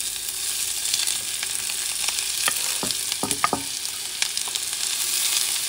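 Onions, celery and peppers sauté in a pan for a Louisiana-style dish, a bright steady sizzle broken by a cluster of spoon clacks and scrapes in the middle, close and fairly loud, with no speech.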